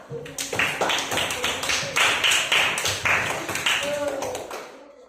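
Children clap in a classroom, a scattered, uneven patter of hand claps that keeps going for several seconds, with voices talking and calling out over it.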